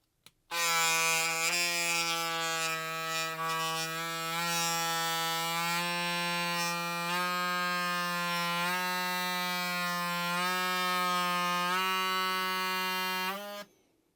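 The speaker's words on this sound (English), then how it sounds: "Now let's see what we could get it to rev up to with the adaptive torque feedback." A BaByliss Dual Coil hair clipper motor runs with a steady, loud electric whine for about thirteen seconds, its pitch stepping upward as it revs before cutting off abruptly.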